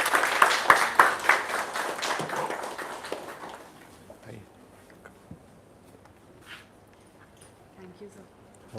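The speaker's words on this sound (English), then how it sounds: "let's give her a big round of applause." Applause at a company town hall meeting for a staff member's good work, loud clapping with a few whoops for about three seconds, then fading into a quiet room with scattered faint sounds.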